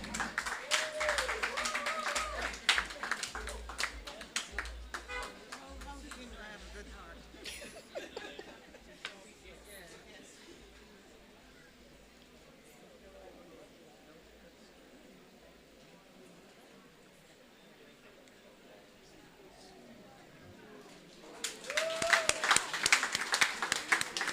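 Applause from an audience at a women's forum celebration, a burst of clapping at the start and a louder round near the end, with murmured talk and chuckles between.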